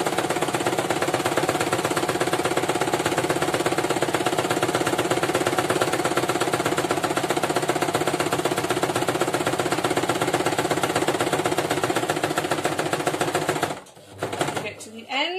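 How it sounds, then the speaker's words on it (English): A domestic sewing machine stitches along a thin fabric strip for a bow, its rapid mechanical chatter running loud and steady for about fourteen seconds before stopping abruptly, followed by a few brief handling sounds. "We're going to do a back stitch, and then we're going to sew all the way along this little strip."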